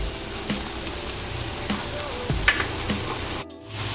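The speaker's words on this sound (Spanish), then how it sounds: "vamos entonces a dejarlo cocinar hasta que veamos que ya la carne pierde ese color rojo" Ground meat sizzles and fries steadily in a pan, with occasional stirring scrapes close by before the sound briefly drops near the end.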